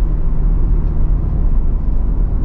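A Ford Bronco Raptor engine growls low and steady through a paddle-shifted downshift, with a close, continuous rumble and no voices.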